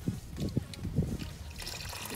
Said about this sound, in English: see the Phillips screw right here to drain all the coolant